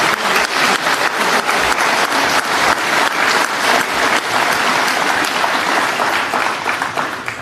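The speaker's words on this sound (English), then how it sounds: "I'd just like you to give yourselves a round of applause." A crowd at a Brexit Party rally in Newport claps in dense, sustained applause that holds at full strength for several seconds before easing slightly.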